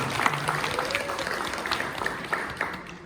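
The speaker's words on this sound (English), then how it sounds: "lease give Dean Rodriguez, Natalie, and Mona a big round of applause." Steady applause from a university audience at a magic and mind-reading show, dense clapping that holds throughout before easing slightly at the end.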